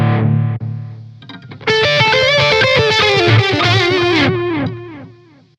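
Electric guitar through the Distortion Plus effect on a Zoom G3X HD multi-effects pedal, a held chord followed by a quick distorted riff that rings out and fades, loud and close.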